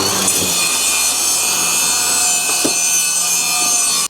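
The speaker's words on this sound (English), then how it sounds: "It's a circular saw blade on a weed eater." A circular saw blade mounted on a weed eater cuts through thorny brush on raw land while clearing a driveway entrance, giving a loud, steady close-up grinding rasp with a couple of brief bites as the blade hits stems.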